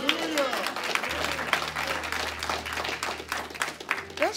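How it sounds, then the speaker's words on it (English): A congregation claps in praise during a church community service, a moderate burst of mixed applause with voices and a low hum underneath, fairly close and continuous for a few seconds. "Let's give God a hand clap of praise."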